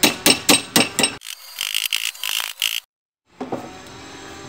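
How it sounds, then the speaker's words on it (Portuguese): A flat hammer strikes a car body panel on a 1986 Ford Del Rey Ghia during restoration, giving a quick series of about five sharp metallic blows. Lighter ringing taps follow, then a pause and a few more scattered hits close by. "pegar um martelo normal, como esse aqui, um martelo chato, e começar a bater aqui nessa superfície"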